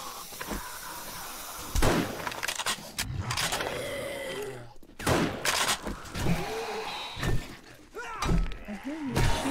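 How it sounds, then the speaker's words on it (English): Gunshots in the zombie survival game 7 Days to Die: a string of irregular sharp reports and thuds, varying in loudness, with game sounds and some voices mixed in. "I hear you shooting"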